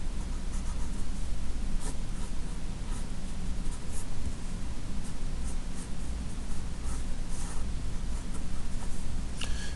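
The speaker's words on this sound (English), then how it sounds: "I'll just start drawing more field lines" A pen scratches across paper, drawing electric field lines for a physics problem in a continuous, soft scribbling texture with no pauses or voices.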